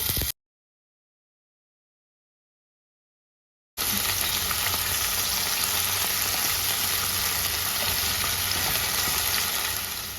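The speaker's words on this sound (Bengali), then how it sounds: "তেলটা গরম হয়ে গেছে এবার মাছগুলোকে একটু ভেজে নেবো" Small lote fish, Bombay duck, frying in hot oil in a kadai, a steady dense sizzle filling the second half after a brief silent gap, close and loud with no talking.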